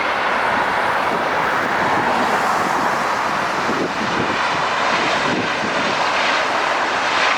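A large airliner touching down at Los Angeles International Airport, a loud, steady roar of jet engines holding close and constant throughout, with no talk over it.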